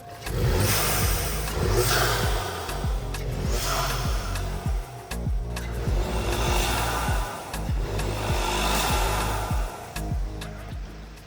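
A turbocharged MQB-platform Volkswagen Group car, modified for louder turbo noise, revs repeatedly, surging and dropping in loud bursts, with whooshing turbo hiss and popping between revs.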